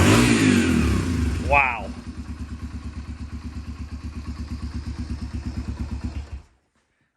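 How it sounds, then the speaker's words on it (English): A 60-year-old Cushman motorcycle cold-starts with a loud crank, then settles into a steady, rhythmic single-cylinder putter that pulses evenly for several seconds before cutting off abruptly; a voice briefly exclaims near the start. "that's how a motorcycle should start up"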